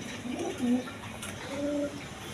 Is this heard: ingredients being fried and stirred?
no